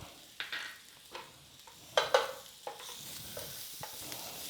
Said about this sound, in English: So I'm going to add a little bit more of the olive oil, and that'll be about a tablespoon. And so I will go ahead and add the garlic with that.